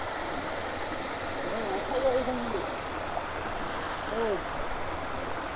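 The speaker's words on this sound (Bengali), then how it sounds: "এই যে দেখো পাহাড়ের ভিতর থেকে জলগুলো কিভাবে নেমে আসছে।" A small waterfall comes down a hillside on the road from Sukna toward Darjeeling, a steady broadband rush of falling water with faint bird-like chirps and a low engine hum in the background.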